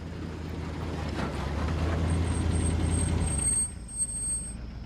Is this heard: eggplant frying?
no